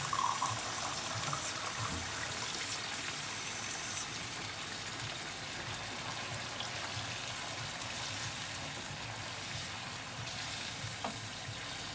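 A glass of water goes into a simmering pot of tinda gosht, mutton and round gourd curry, giving a steady close sizzle and bubbling wash that runs on evenly with no speech.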